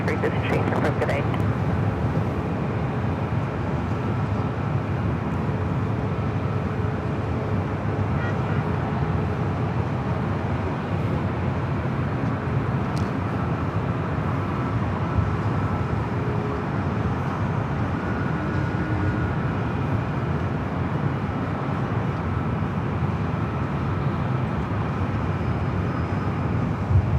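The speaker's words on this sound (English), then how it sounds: "Next arrival is that Japan Airlines A350-1000, flight 16, giving it from Tokyo, Haneda." A Japan Airlines Airbus A350-1000 arrives at LAX from Tokyo Haneda, a steady broad jet roar sustained throughout at moderate distance, with no clear rise or fade.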